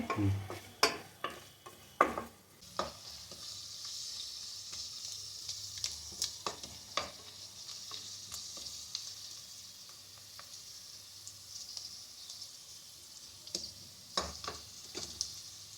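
Onions sizzle steadily in a pan while a spoon scrapes and taps against the metal, with a cluster of stirring knocks early on, sparser strokes later and a constant frying hiss underneath.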